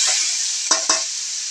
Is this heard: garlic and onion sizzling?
yes